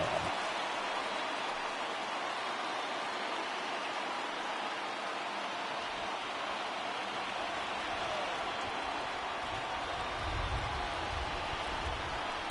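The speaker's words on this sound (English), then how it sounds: "Crowd gets up for the 3-2." Stadium crowd noise in the baseball video game MLB The Show 20, a steady broad roar and murmur that holds throughout during a full-count at-bat, with a slight swell near the end.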